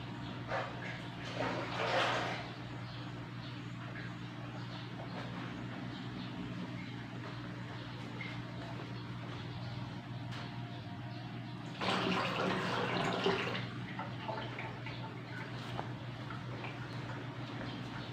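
Water runs steadily into a water dispenser during repair with a low, constant trickle, and two louder gushing bursts come partway through.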